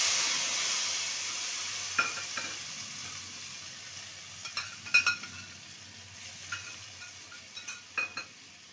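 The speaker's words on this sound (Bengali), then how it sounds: "ভালো করে নেড়ে নেব" Spice paste of ginger, green chilli, pepper, cardamom and cinnamon stirred into hot oil for a raw banana dish, a steady sizzle with occasional scraping clinks of the spoon against the pan.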